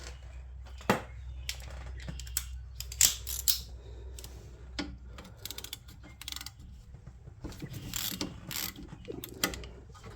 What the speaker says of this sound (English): you should get yourself one of these extendy handle ratchets